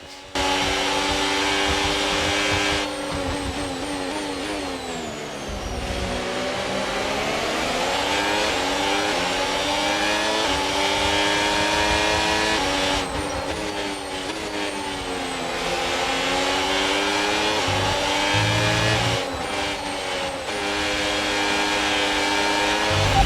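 Race cars in a sim racing game at full throttle, fighting for position wheel to wheel; loud engine notes rise and fall through gear changes, alone and steady for the whole stretch.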